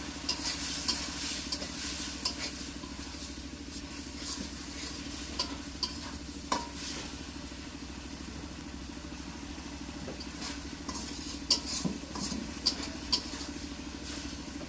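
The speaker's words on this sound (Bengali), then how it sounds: "মশলা মাছ ভালোভাবে কষিয়ে নিলাম।" Prawns being sautéed with spices and green chili in a pan for a red amaranth curry, with a constant sizzle, scattered scraping stir strokes and a low steady hum beneath.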